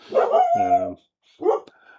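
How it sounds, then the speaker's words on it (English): A dog barks indoors at something outside: one long, loud, whining bark close by, then a short second bark after a brief pause. "The dog has some strong opinions again about things going on outside."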